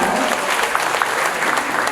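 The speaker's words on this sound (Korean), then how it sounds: "우리 건영 회장님께 다시 한 번 더 큰 박수 부탁드립니다." A lecture audience at a middle-age academy event breaks into a big round of applause for a chairman, a loud, dense, even roar of clapping filling a hall.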